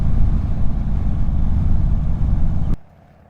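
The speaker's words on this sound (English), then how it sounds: "how it's going to handle the noise from the engine" A motorcycle engine picked up by a microphone inside the rider's helmet gives a loud, steady low rumble mixed with wind roar, running continuously before cutting off abruptly to near silence.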